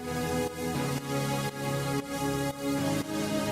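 Sustained pitched siren-like calls layered over a low drone section and horns, a thick continuous swell that pulses roughly every half second, moderately quiet with no talking.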